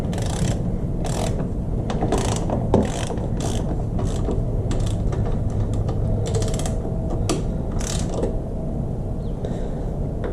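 A hand ratchet clicks in quick, uneven bursts while tightening an engine mount bolt with a spacer on a 2005 Honda CBR1000RR motorcycle, close and clear with brief pauses between strokes.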